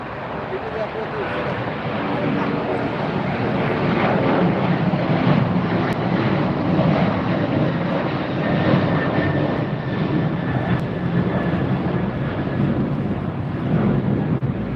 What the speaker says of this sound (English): A versatile aircraft, reliable engines, can take off and land on shorter runways than some of the other larger aircraft.